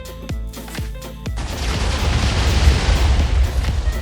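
TNT blasting a tunnel in Minecraft, with three sharp booms in quick succession followed by a sustained, loud rumbling roar of overlapping explosions.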